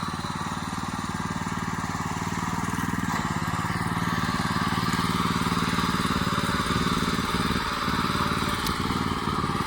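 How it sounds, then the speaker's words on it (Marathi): A tractor engine runs steadily at a farm field, a continuous droning chug holding at moderate loudness throughout with no breaks. "त्याला शिकायचं होतं म्हणून ट्रॅक्टर चालू केलं."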